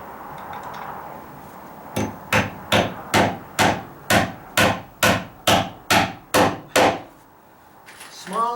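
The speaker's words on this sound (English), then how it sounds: "Smaller joist hanger nail at the bottom angle." A hammer drives a nail into a metal joist hanger on a deck floor joist. Thirteen evenly spaced, ringing blows land at a steady rhythm, loud and close, with no talking over them.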